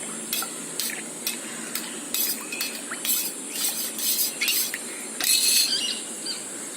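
Spoon stirring chaas masala into buttermilk: light, irregular scraping and clinking strokes against the container, close and fairly soft, repeating throughout with no voices.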